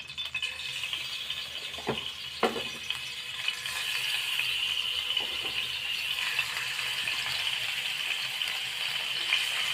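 Rohu fish fries in a pan with a steady, close sizzle and crackle. A few clatters of stirring or of a utensil on the pan come early, and no one speaks.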